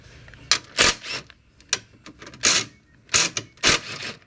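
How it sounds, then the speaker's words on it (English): A tiny impact wrench spins off 13 mm brace screws on a 2012 BMW X5 35d, giving several short, sharp whirring rattles separated by brief pauses, close and fairly loud. "I use a tiny impact wrench to do this."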